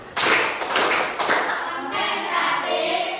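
A group claps together in a classroom-style ice-breaking exercise, giving a few sharp, loud bursts of many hands at close range, followed by a softer, scattered patter of claps.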